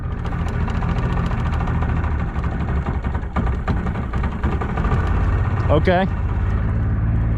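The engine of a new boat running while cruising, a steady low droning rumble heard close throughout, with a person speaking briefly over it and a short tonal warble near the end.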